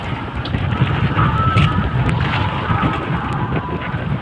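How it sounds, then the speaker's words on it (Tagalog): Loud, continuous wind roaring and buffeting the microphone at sea amid large waves, with a rough, turbulent rush throughout. "grabe ang lakas ng hangin"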